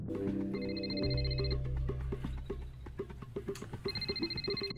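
A telephone rings in a Breaking Bad episode, its repeated electronic bursts sounding over a busy, steady background of music and scene sound, with no one talking.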